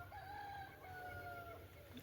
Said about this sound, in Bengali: মুরগি ডাকছে, গুড মর্নিং।